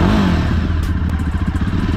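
A Jawa Bobber 42 motorcycle engine runs close by, a loud, deep, throbbing exhaust rumble with uneven pulsing beats and some mechanical clatter, with no talk.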